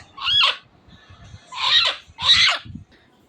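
A native domestic hen that has just laid two eggs clucks and squawks in three loud, close bursts separated by short pauses, with quiet scratching and rustling in between.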